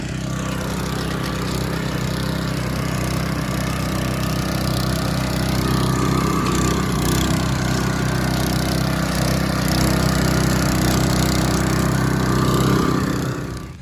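A Classen TR20 power rake dethatcher running on St Augustine grass, a loud continuous engine drone with a steady low hum and rough mechanical whirr, unchanging close by.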